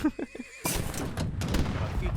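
Cavalry horses whinny in Age of Empires III, a distinct neigh cutting through a busy battle mix of clashing units and gunfire, following a brief quiet opening.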